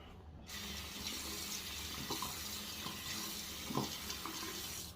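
Water runs steadily from a tap into a sink, a faint, continuous splashing stream with a few soft knocks, and no talking.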